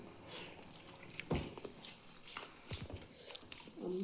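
Someone bites into a fried bora fritter seasoned with black pepper: one crisp, close bite followed by soft, moist chewing and a few smaller crunches, fairly quiet with no talk over it.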